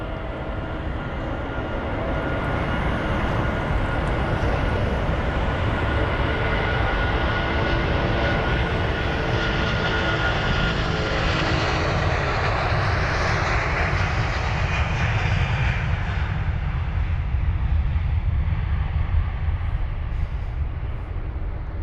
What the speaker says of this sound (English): We've also got another one on the runway of Turkish Airlines off to Istanbul